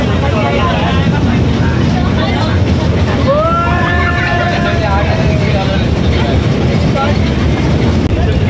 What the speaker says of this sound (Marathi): ट्रेन चालली आहे